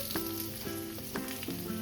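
Onion and ginger frying in hot oil in a pan give a steady close sizzle, with a few brief stir clatters along the way.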